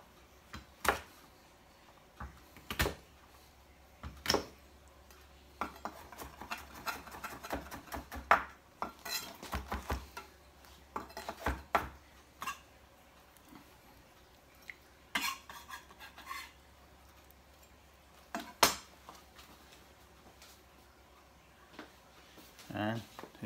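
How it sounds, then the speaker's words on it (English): Knife chopping garlic on a cutting board for a goat stew, irregular sharp knocks in scattered clusters with short pauses, close and fairly quiet, with a person speaking between the cuts. "chop some garlic"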